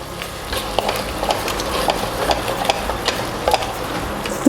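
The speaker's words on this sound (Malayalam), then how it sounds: "ഇനി മസാലയുടെ പച്ചമണം മാറുന്നവരെ നമുക്ക് നല്ലപോലെ ഇതൊന്ന് വഴറ്റി കൊടുക്കാം" Chicken biryani masala being sautéed in a pot, a dense, steady frying hiss with frequent soft scraping and tapping of a spoon stirring, close and continuous, no voices.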